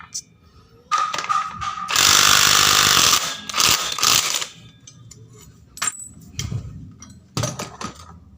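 An impact wrench works on the CVT of a Honda Scoopy scooter, giving a loud, sustained burst of rattling hammering followed by shorter bursts and metallic clinks of parts and tools, close up.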